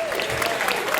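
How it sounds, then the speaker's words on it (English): Dense audience applause for a trumpet-playing jazz bandleader at a university studio jazz band show in a small venue, a loud continuous wash of clapping. "We can give Jesse a big round of applause."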